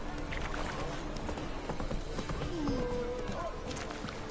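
A horse gallops at steady clip-clop pace through The Witcher Wild Hunt game world, its hoofbeats running continuously under a low bed of ambient game sound.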